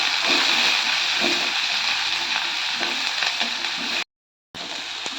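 Chopped small onions and curry leaves sizzle steadily and loudly in oil in a pan, with faint stirring scrapes, then the sound cuts out briefly before resuming.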